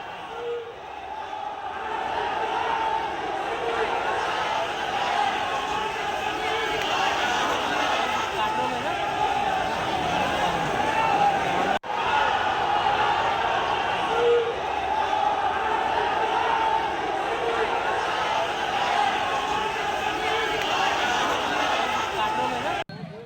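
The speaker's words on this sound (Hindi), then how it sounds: "विवादित पोस्ट से नाराज भीड़ ने थाने का घेराव कर दिया।" An angry crowd surrounds a police station in Nagpur after a controversial post, a dense and continuous roar of many voices and shouting that stays loud and steady throughout.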